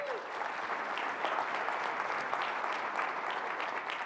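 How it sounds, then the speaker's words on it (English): A room of convention attendees applauding the CCA team, steady, even clapping at moderate distance that continues throughout without voices. "So please give the CCA team a round of applause."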